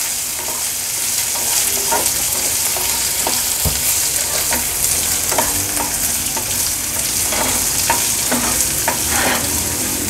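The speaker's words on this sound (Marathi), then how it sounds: "कांदा थोडासा आपल्याला तेलावर परतून घ्यायचा आहे।" Onion, curry leaves and dried chilli sautéing in hot oil, giving a dense close sizzle under repeated spoon stirs and light scrapes against the pan; no one talks.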